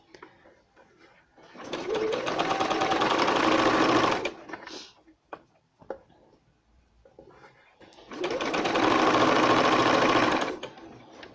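Sewing machine stitching fabric pieces together for a bunting garland, running in two steady bursts of about two to three seconds each, separated by a quiet pause with small handling clicks.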